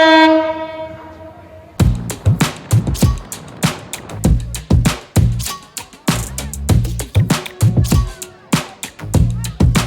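The Ruposhi Bangla Express leaves Dhaka's Kamalapur station: a sustained horn blast first, then loud, close, rhythmic clatter of wheels over rail joints.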